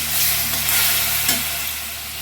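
Spice paste with a splash of water frying hard in a pan while being stirred for a bitter gourd chorchori with lentil dumplings, a dense steady hiss with a few scraping strokes, close and loud, no voices.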